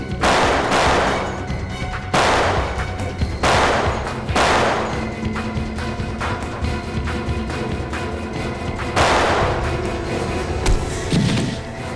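Bursts of rapid gunfire erupt in several loud volleys with short pauses between them, sustained and close, with no talking.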